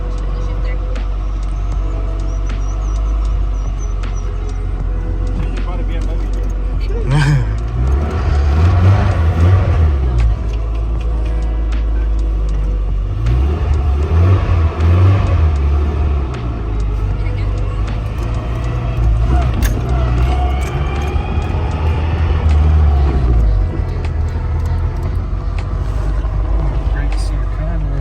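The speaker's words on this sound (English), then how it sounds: "when you drive it, drive fast. You can see what I'm talking about. That it rattles really bad." Inside a project car driven hard, the engine drones and surges loudly through repeated acceleration while the cabin rattles, and occupants talk over the noise throughout.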